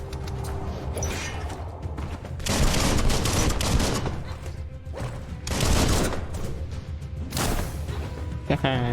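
Gunfire in the video game Biomutant comes in bursts of rapid fire, with louder volleys near the middle and the end, mixed with mechanical clanks and game effects, while a voice speaks over parts of it.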